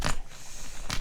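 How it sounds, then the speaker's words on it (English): A dog chews on a bone nearby, producing two short, crunchy gnawing scrapes about a second apart over a quiet room hiss. "that is my dog chewing a bone"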